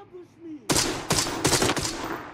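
Gunfire in the video game Arena Breakout Infinite: about four loud, close shots in quick, uneven succession, each a sharp blast with a short ringing tail.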